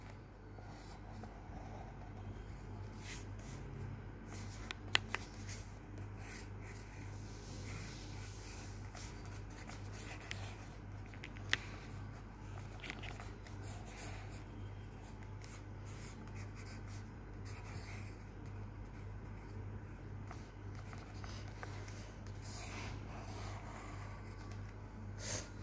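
Pencil or pen drawing steadily in a sketchbook, a soft continuous scratching and rubbing with occasional light taps, close and quiet over a low steady hum.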